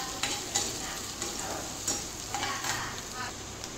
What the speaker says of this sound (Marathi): कांदा असा लालसर होईपर्यंत आपल्याला ते भाजून घ्यायचं आहे पूर्ण